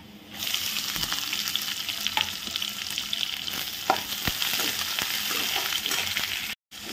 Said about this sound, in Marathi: लसूण छान फ्राय झाला। कांदा,